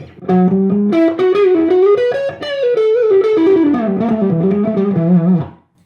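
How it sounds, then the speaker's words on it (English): A distorted electric guitar, a Les Paul through a Trainwreck-style amp at low volume, plays a short, sustained melodic phrase with crunchy overdrive, loud and up close, then rings out. "you get on the amp, even obviously at this low volume, it's going to deliver some distortion"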